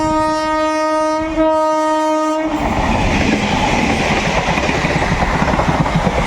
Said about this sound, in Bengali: পাশ থেকে রানাঘাট লোকাল ছুটে আসছে দেখতে পাচ্ছেন